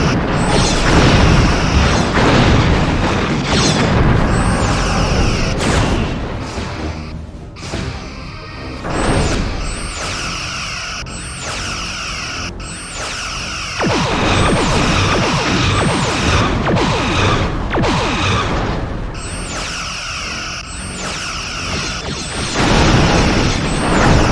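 Starship combat in the Star Trek Bridge Commander video game, with torpedo fire and explosions forming a loud, dense, continuous wash of mechanical roars, booms and crashes that swell and dip throughout, with no voices.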